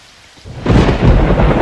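A thunderstorm with heavy rain: a quiet hiss swells into a loud, dense roar of downpour and rumbling thunder, close and steady with no voices.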